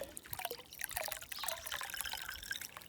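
Water running steadily from a hose or pipe outdoors, used for garden watering, with a continuous trickling, splashing flow at moderate, close level and no voices.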